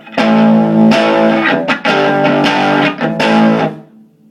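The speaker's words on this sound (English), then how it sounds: "That was obviously distorted. But I'm not using the distortion channel, I'm just pushing the amp to volumes higher than it can deal with" An electric guitar played through an amp cranked past its clean limit on the clean channel, breaking up into loud, saturated distortion; several sustained strummed chords ring out with brief gaps between them.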